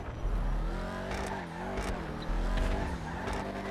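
Engine of a Vapid Dominator GTX, a Mustang GTD-style muscle car in a racing video game, revving steadily through a turn with a brief tire squeal, loud and continuous with no talk.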